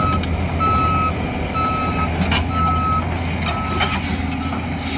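A JCB JS205SC excavator's engine rumbles steadily nearby while a reversing alarm beeps at regular intervals over it, with occasional clanks.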